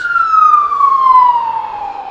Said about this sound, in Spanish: Ahí vienen los bomberos